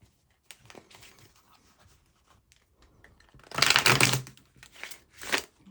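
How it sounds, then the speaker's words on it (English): Strawberry Tarot and oracle cards are riffled and shuffled by hand, soft scattered shuffling building into two louder, dense bursts of card flutter close to the microphone, with no talking. "So give those a good shuffle."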